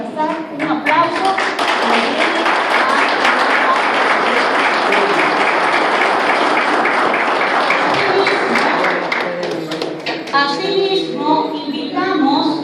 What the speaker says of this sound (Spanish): Con nosotros el señor Manuel Salazar, un aplauso.